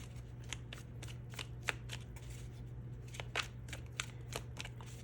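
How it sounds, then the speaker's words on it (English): A deck of tarot cards is shuffled by hand in a quick series of crisp riffling bursts and slaps, repeated irregularly over a low steady hum, close by and with no talking. "Let's keep shuffling though."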